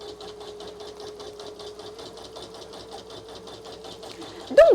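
A Janome Memory Craft 1000 embroidery machine stitching in a steady, rapid rhythmic chatter that runs evenly throughout, ending with a brief louder mechanical sweep.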